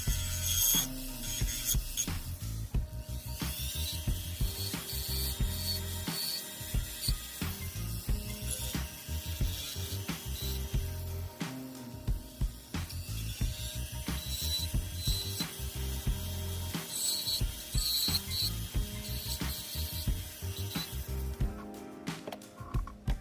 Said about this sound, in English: So what I'm currently using right now is a spider wheel, and it's given a sanded finish